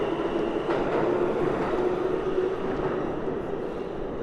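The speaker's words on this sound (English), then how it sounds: "I just got off an F train at the Fort Hamilton Parkway subway station" An F subway train at the Fort Hamilton Parkway station in Brooklyn, NYC, gives a steady, loud rail rumble and hum that holds throughout with no speech.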